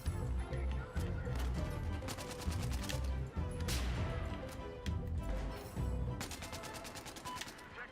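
Rapid video game gunfire, automatic bursts and single shots crackling close and loud in a dense, continuous barrage for several seconds, with no talk over it.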